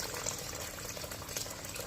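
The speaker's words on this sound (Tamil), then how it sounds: "இப்போ இது கூட தண்ணி ஆட் பண்ணி ஒரு ஃபைவ் ஹவர்ஸ்க்கு ஊற வச்சிடலாம்" Water pours steadily into a bowl of washed pearl millet set to soak for dosa batter, a continuous close splashing gush with no speech.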